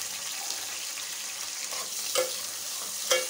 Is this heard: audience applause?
no